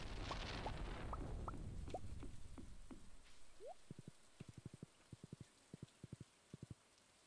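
Steady rain pattering in the farming game Stardew Valley, a soft continuous wash that fades partway through, followed by a run of short rhythmic game sound effects.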